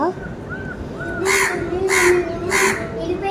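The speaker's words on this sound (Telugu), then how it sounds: "అదే పనిగా కాకి వచ్చి అరుస్తూ ఉంది" A crow caws three times in slow, evenly spaced calls, loud and close, over a faint background hum.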